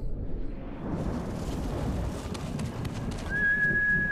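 A horse gallops in Ghost of Tsushima with a steady rumble of hoofbeats against wind, and a thin whistle-like tone enters toward the end.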